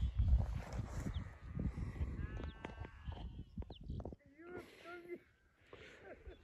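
Sheep bleat from a grazing flock on snowy mountain slopes, several wavering calls rising over wind and rustling, with a few voices talking nearby.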